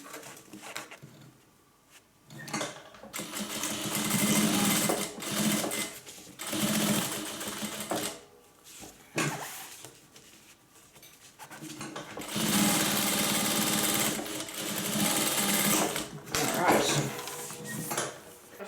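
A sewing machine stitches two fabric pieces together for a hippie van craft project: several close, loud runs of rapid whirring stitching separated by short pauses and light handling clatter, with no speech.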